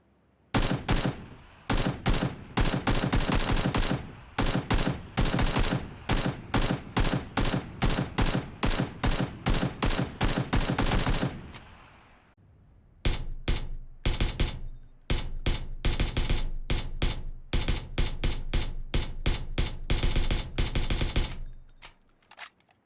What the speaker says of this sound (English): I am not able to record gunshot sounds, so let us hear online examples.